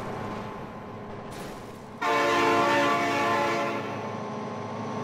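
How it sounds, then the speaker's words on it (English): Train horn blasting in the BeamNG.drive driving game, a loud sustained tonal blare that cuts in suddenly over the rumble of a passing train and holds for several seconds. "Oh my God, train!"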